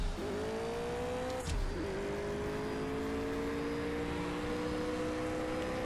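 Racing car engine in the mobile drag-racing game CSR2, a steady loud drone with rising pitch, a brief dip and shift partway through, then climbing again through the rest.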